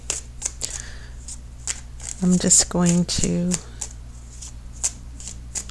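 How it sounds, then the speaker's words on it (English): Tarot cards are shuffled in a few quick riffling bursts, close and crisp, with a voice talking briefly beneath and light handling clicks around them. "So as I shuffle the cards"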